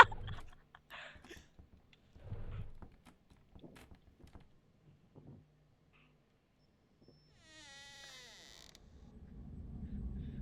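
A door in a Roblox horror video game opens with a short, high, wavering creak. Before it come quiet, scattered talk and clicks, and low rumbling noise follows.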